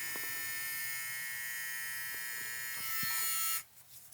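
An MRD Pro SmartBrain hair trimmer running, a steady high electric buzz held close for several seconds before it switches off, then silence.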